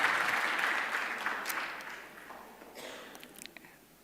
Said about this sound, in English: I think another good round of applause.